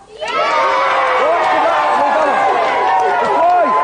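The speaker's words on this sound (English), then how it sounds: "Give them a big cheer." A loud television game show studio audience cheers and whoops together, a sustained roar of excited voices with high-pitched shouts rising and falling.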